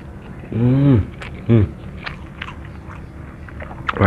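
Someone bites into and chews chicken nuggets with shrimp paste sambal: two short voiced exclamations stand out, followed by soft, close chewing and crunching clicks that are faint and sparse.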